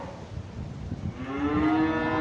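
Weaned spring-born calves and cows bawling, with several overlapping low moos that swell into a long, loud drawn-out bellow nearby.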